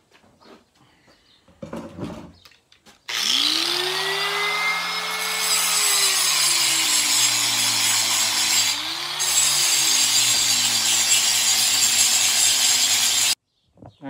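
A power grinder whines loudly and steadily for about ten seconds, its pitch dipping briefly under load, after a few quieter handling noises.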